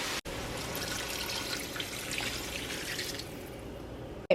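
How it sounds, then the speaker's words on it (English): Water pours in a steady, fairly loud rush into a cooking pot already holding soy sauce and vinegar, running continuously for about four seconds before stopping abruptly. "I just added in the water."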